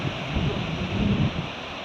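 Ocean waves rolling in at high tide on Perranporth beach in early morning, a low rumbling wash of surf mixed with gusty wind buffeting the microphone, steady and close.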